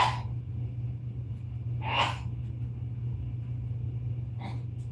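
A single sneeze bursts out about two seconds in, close and fairly loud, over a steady low mains-like hum, with a fainter short breathy sound near the end.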